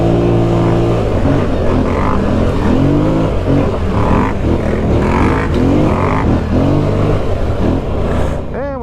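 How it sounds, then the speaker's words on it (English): ATV engines on a rocky trail climb roar loud and close, revving in uneven surges as throttle rises and falls, with a brief voice heard once under the engine noise. "Hey, there's another ATV."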